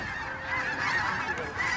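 A large flock of birds at Bosque del Apache fills the air with dense, continuous honking, many overlapping calls forming a loud chorus.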